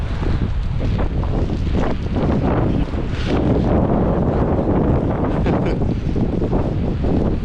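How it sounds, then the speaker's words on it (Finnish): Strong storm wind roars outdoors with rain, gusting hard and buffeting the microphone in a loud, continuous rush without any voices. "Täällä sataa niinku ihan täysiältä. Tuulee kylmä tuuli"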